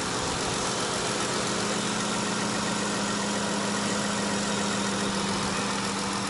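A 2015 Dodge Grand Caravan with a 3.6 litre V6 idling, a steady, fairly quiet engine hum with a low drone that holds even throughout, no voices.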